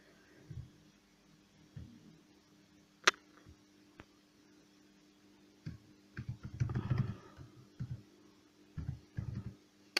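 Light taps and clicks of typing text on an Android phone come in irregular bursts, soft and close, with a few sharper ticks and no talking.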